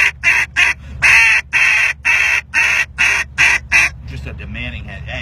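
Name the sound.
duck call imitating a demanding hen mallard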